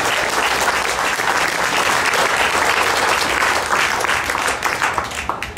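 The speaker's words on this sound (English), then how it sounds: "Let's give the youth here a big round of applause for my steers." Steady, dense applause from an audience fills the space throughout at a county fair steer show, loud and sustained before easing slightly at the end.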